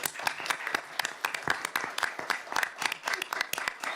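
Scattered applause from an audience at a board of education meeting, moderately quiet, with distinct individual claps standing out in an uneven rhythm.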